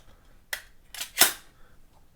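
Three quick mechanical clicks and snaps, close and crisp, as a Lubitel 166 export-version vintage film camera is opened, with quiet gaps between them.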